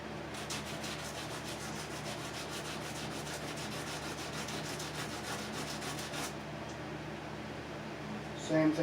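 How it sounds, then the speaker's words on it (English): Very fine sandpaper rubbing the solder terminals of an in-line fuse block on a Sony tuner, a close, steady rhythmic scratching of quick back-and-forth strokes that stops near the end, followed by faint handling clicks. "I'm going to take some very fine sandpaper, and we're going to just clean that up a little bit so we get a good solder connection there."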